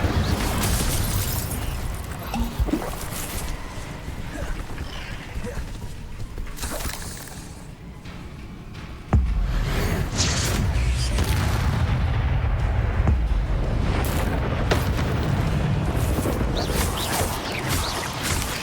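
Hogwarts Legacy combat in which the Incendio fire spell bursts with a loud crackling whoosh and blasts, mixed with battle clatter and other spell impacts throughout.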